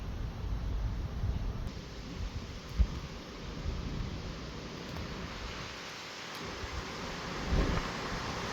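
Thunder rumbles through an extreme storm in Gironde under low clouds, a steady broad roar of wind and rain with a couple of brief louder rolls and no talking.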